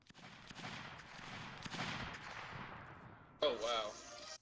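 Musket volleys in a Napoleonic Wars multiplayer line battle, with a dense rolling crackle of many shots spread across several seconds and a sharper burst near the end, moderately distant. Voices chatter over the gunfire.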